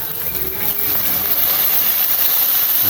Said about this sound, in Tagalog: Saka natin mga men bubuhusan ng suka